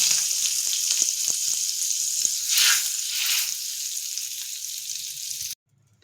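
Hot ghee with Kashmiri chillies sizzles and crackles steadily with a few louder bursts of spitting, then cuts off abruptly near the end.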